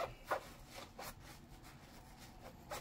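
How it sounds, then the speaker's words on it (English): A Scrub Daddy sponge scrubbing a pot while dishwashing, a series of soft rasping strokes, several short scrapes spaced irregularly at close range with quiet pauses between, no speech. "And if you want, you can just scrub it a bit more."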